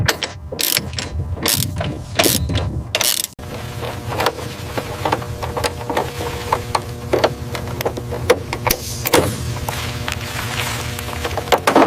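A ratchet wrench tightens a bolt during a military helicopter restoration, producing a rapid series of sharp clicking pawl strokes that open with loud separated bursts and then continue as steadier, denser ratcheting.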